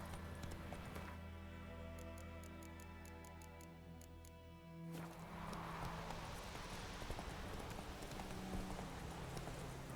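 Roach, the horse in the video game Witcher 3, gallops with a steady, rapid clip-clop of hooves that runs on throughout, close and clear. A faint voice briefly speaks over the hoofbeats.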